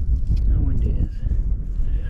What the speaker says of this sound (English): How windy it is.